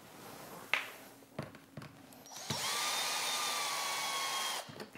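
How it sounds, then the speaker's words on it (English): Power drill unscrewing screws from the side profile trims of a Fhiaba refrigerator during installation, a few faint taps and clicks, then a close, sustained whining spin of about two seconds. "So there's 5 screws per trim. We're going to remove those now."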